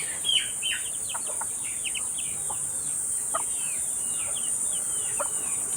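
Soft, repeated clucks and chirps from a hen and feeding chicks sound close by over a steady high insect drone.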